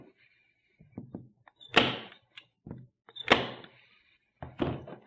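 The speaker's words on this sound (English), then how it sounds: "Staple that down." Three sharp staple-gun thunks drive staples through fabric into a pressing board, spaced about a second and a half apart, close and crisp, with small handling taps between them and no talking.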